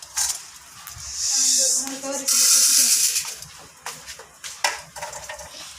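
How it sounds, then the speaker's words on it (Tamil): Fenugreek seeds sizzle and crackle in a hot dry pan, with scraping and light metallic stirring, close up and moderately loud with intermittent popping. "வெந்தயத்தை நல்லா வறுத்து எடுத்துக்கலாம்"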